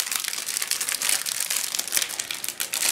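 Plastic bags holding sprues from a 1/72 scale model kit crinkle and rustle loudly and close up in quick, irregular bursts, with no voices.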